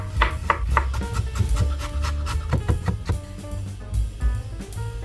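A knife chops ginger on a cutting board while prepping a spicy coconut chicken neck dish, with bursts of quick, close taps against a steady low background hum.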